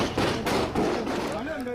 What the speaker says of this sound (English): chaos, riddled by the sound of gunfire